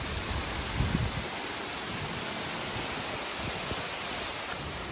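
Dense, steady roar of waterfalls at Anse des Cascades on La Réunion, close and constant, with a brief low thump early on.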